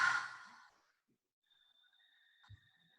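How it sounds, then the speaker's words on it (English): A single long, breathy exhale through the mouth during a yoga pranayama exercise, close and soft, fading out after about half a second into near silence with a faint tone. "And breathing everything out through the mouth."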